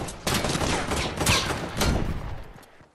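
Rapid gunfire in the video game Fortnite, a dense burst of automatic shots and overlapping bangs filling the whole moment, loud and close before trailing off at the end.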